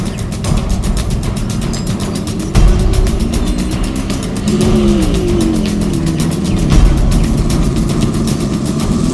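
Car engine running steadily, rising and settling with a few surges, then easing as the vehicle is brought to a stop; loud and close with no talk.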